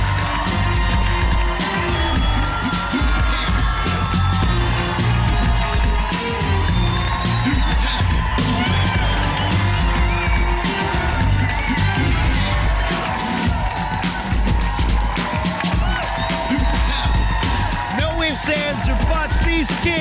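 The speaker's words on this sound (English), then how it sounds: "Take a listen to this crowd rocking." Crowd cheering and roaring in the Extreme Arena during the Global Guts kids' competition, a dense, loud, continuous wash of voices with whoops and scattered impacts throughout.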